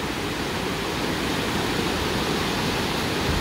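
A waterfall on the Firehole River in Yellowstone National Park gives off a loud, unbroken roar of rushing water, close and steady with no voices.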